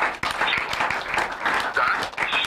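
An audience bursts into applause for a radio family program's wonderful intro, a dense burst of many hands clapping close by, steady and lively throughout with a voice briefly mixed in.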